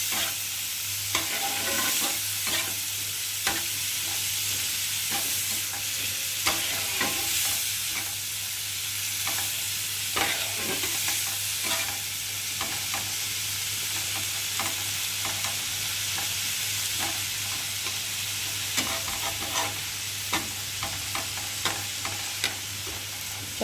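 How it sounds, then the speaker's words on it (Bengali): Shrimp fry in a pan with a little turmeric, a steady close sizzle running throughout, broken by frequent scraping stirs and clicks of the spatula. No one talks. "অল্প করে হলুদ দিয়ে ভালো করে চিংড়ি মাছটাকে ভেজে নেব।"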